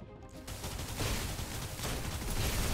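Hand cannon firing in Snowbreak: Containment Zone, a co-op boss fight; after a brief quiet moment, a dense, sustained barrage of crackling, thin-sounding shots carries on loudly to the end.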